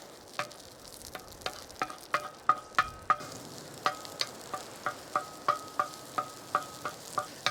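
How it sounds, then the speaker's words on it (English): Garlic dropped into hot oil on a Skottle grill over lowered heat, with about twenty sharp, evenly spaced clicks and scrapes of a utensil stirring against the metal pan over a soft steady sizzle. No one speaks. "And then we're gonna throw in our garlic."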